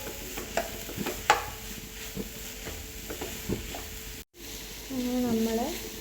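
Grated coconut stirred into egg thoran in a pan, a low sizzle under repeated spatula scrapes and taps against the pan, close by, with a short gap and a brief voice-like tone toward the end.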